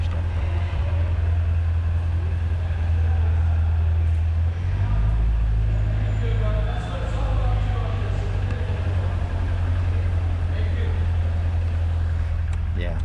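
A faulty Corvette with a bad noise, heard from inside the car as a loud, steady low engine drone with a deeper surge partway through, while people talk over it.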